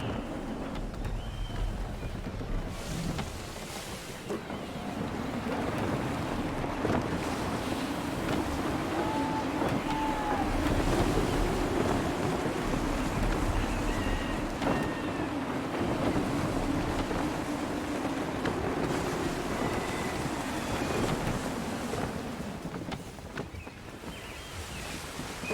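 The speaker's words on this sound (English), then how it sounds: "Gusty winds can be difficult to manage." Gusty wind at sea while sailing a ship in Assassin's Creed III, a steady loud rush of wind and water with waves washing against the hull, and brief faint tones over the top.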